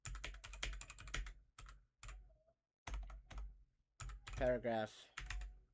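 Someone types steadily on a computer keyboard in Notepad, a dense patter of close, crisp keystrokes that pauses now and then while someone talks over it.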